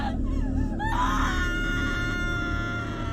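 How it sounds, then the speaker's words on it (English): A woman's high, wavering scream rises and bends, then breaks into a longer sustained wail, loud and close with a steady low hum beneath. "hearing the ladies scream beneath your feet"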